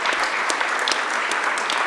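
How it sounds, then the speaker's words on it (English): An audience applauds Jamaica's Prime Minister Holness at an evening discussion event, with many hands clapping in a steady, full-bodied wash and a few sharper claps standing out. "Please, another round of applause for Prime Minister Holness."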